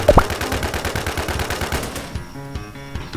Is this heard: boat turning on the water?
no